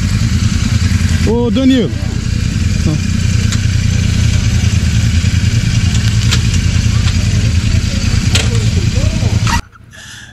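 A Royal Enfield Super Meteor 650 motorcycle engine idles loudly and steadily, rumbling close by, with a short call from a voice over it before the engine cuts off.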